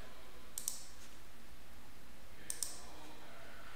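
Two pairs of crisp computer mouse clicks, each a quick double tick, spaced about two seconds apart over a steady low background hum.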